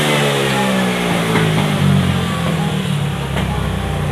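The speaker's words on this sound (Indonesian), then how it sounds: "di saat motor ini di putaran sekitar 5000 sampai 7000 rpm" A motorcycle engine drones loudly and continuously at about 5,000 to 7,000 rpm, pitch wavering slightly as it holds speed.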